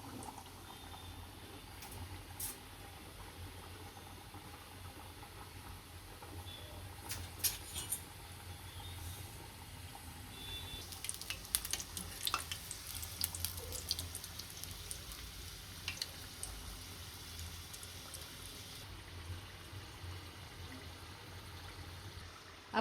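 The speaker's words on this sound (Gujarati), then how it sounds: "આપણા સમોસા સારી રીતના તળાઈ ગયા છે" Three aloo samosas deep-frying in hot oil, a low continuous bubbling hiss that grows busier and crackly midway, faint and steady throughout with no talking.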